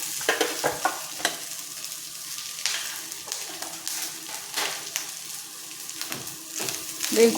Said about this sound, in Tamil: ஒரு நிமிஷம் வதக்கி விட்டுக்குவோம்